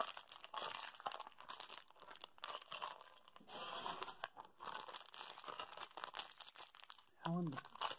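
Plastic packaging around Yo-kai medals being crinkled and torn at, in irregular crackling bursts near the mic, with a person talking in between the rustles.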